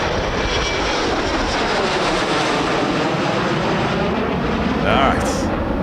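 Boeing 727 jet taking off at Los Angeles International Airport, a loud sustained roar of jet engines heard from the airport, with people talking over it.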